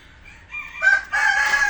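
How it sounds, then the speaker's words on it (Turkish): A rooster raised from a chick crows nearby, one loud drawn-out cock-a-doodle-doo rising and holding to the end, with no talk over it. "Bu benim kendi civcivden büyüttüğüm horozum."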